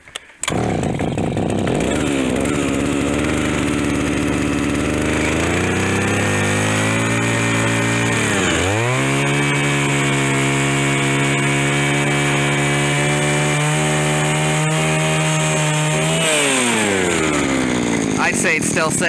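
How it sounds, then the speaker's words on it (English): A gas-powered ice auger drills through about ten inches of lake ice in late-season conditions, its engine roaring loud and close the whole time, the pitch dropping under load and then climbing again as it revs up. "This auger just sucks."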